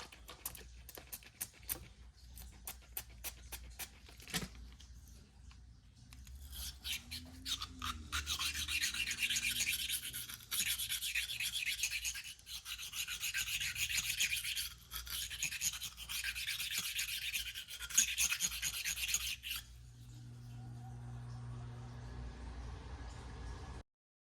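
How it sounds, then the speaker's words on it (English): A dry shirt rubs over the parts of a SIG Sauer SP2022 pistol during cleaning, giving quick faint scrubbing strokes, then a longer close rasping rub that stops abruptly before a quiet hum. "I take a dry shirt and I run it over"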